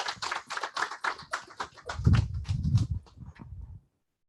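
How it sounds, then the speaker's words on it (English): Audience applause for Dan at a training session, a short burst of clapping that swells, then fades and stops after a few seconds, fairly close with no talking over it. "So let's give Dan a huge round of applause."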